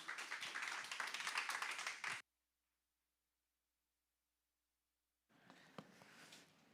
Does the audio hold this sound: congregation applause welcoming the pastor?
yes